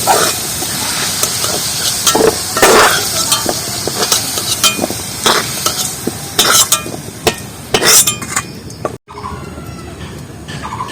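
Chopped papaya stem pieces frying in a pan, a steady sizzle broken by sharp scraping stirs and clatters of a spatula, close and fairly loud, with a brief dropout near the end.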